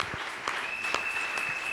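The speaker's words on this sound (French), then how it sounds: "Acclamons très fort pour le Seigneur." A church congregation applauds at a praise service, steady dense clapping throughout at moderate loudness, with a faint sustained whistle-like tone running over the middle and no speech.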